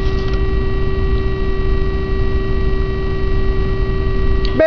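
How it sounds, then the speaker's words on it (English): Kossel Mini delta 3D printer running with steady motor hum and a constant tonal whine close by, ending in a short rising stepper-motor sweep as the print head moves down toward the bed. "it's retracting the probe, and now it's heading down to the print bed to start printing"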